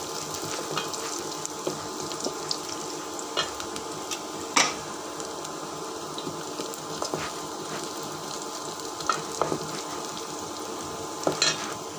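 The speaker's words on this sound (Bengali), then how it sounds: "এই যে পেঁয়াজটা রসুনটা ভাজা হয়ে গেছে, লাল হয়ে আসছে।" Chopped onion and garlic fry in a pan, turning red, with a steady soft sizzle broken by occasional clinks and scrapes of stirring, close and without talk.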